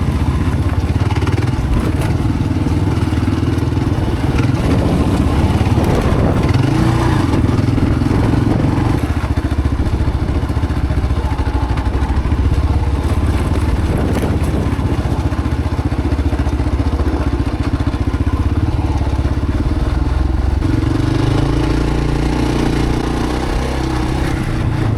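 Adventure motorcycle riding a dirt trail in the Victorian High Country, with a loud, continuous engine drone, wind buffeting and clattering over rough ground throughout, and no talking.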